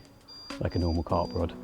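A steady high electronic alarm beep from next door runs faintly in the background while someone talks over it.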